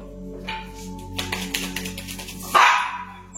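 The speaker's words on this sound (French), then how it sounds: "Excusez-moi pour le chien" A dog barks a few times in the background, short sharp yelps partway through, then a louder burst near the end, over a steady low hum.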